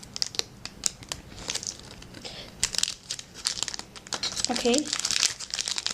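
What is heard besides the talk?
cutting a section off a block of green pearl polymer clay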